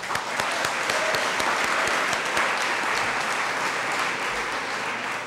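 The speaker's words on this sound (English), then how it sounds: "Let's clap that up." A college audience at a Long Beach City College celebration claps steadily, a dense, even wash of applause that holds for several seconds with no voices over it.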